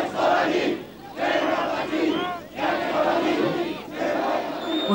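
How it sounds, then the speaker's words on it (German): A large crowd at a 1989 mass demonstration in East Germany, held alongside the official GDR anniversary celebrations, chants in four loud rhythmic bursts separated by brief dips. "Ungeachtet der offiziellen Feierlichkeiten formulierte die Menge, wie sie sich ihre Zukunft vorstellt."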